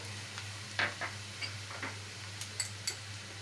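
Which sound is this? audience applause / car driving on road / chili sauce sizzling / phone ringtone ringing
chili sauce sizzling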